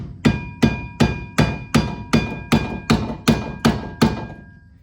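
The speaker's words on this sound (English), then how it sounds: "So a couple hammer taps because it's a little rusty" Ten evenly spaced metallic hammer taps strike a rusty rear parking brake cable on a 2006-2012 Ford Fusion, each a sharp close clank with a short ringing tail.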